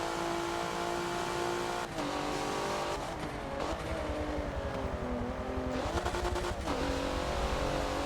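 A race car engine in Forza on Road Atlanta drones steadily at high revs, close and loud throughout. The pitch dips and climbs again through gear changes and brief throttle lifts, with no talking.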